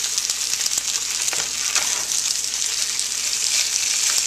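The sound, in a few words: sriracha sauce being stirred into sizzling chicken adobo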